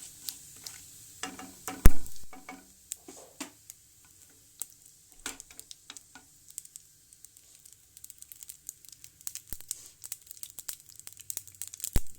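Cumin and mustard seeds sizzle and pop in hot oil in a pan while cooking a pumpkin dish, with a sharp burst early on and then scattered crackles and small spits fading to a quiet, intermittent sizzle.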